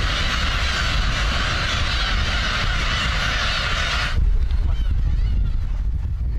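Colony of Chinese egrets, black-tailed spoonbills and black-tailed gulls at a breeding island in the Yellow Sea, a dense, continuous chorus of honking, squawking calls that shifts to a thinner, scattered cackle near the end.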